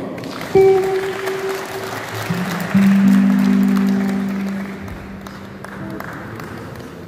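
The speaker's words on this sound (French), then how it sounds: "on applaudit Papa" Mourners at a funeral applaud in a moderate, fairly diffuse patter as sustained tones and background murmur run beneath the claps.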